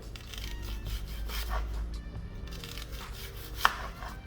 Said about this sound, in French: couper l'oignon donc en rondelles, de fines rondelles pour celui-ci